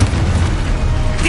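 A Confringo fire-blast spell from a Harry Potter video game goes off as a short, dense, booming burst of explosive noise that fills the whole moment with a heavy low rumble.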